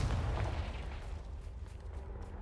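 Deep booming blast of a Confringo fire spell in the Hogwarts Legacy video game, one heavy low explosion that starts loud and rumbles away over a couple of seconds, with no talking.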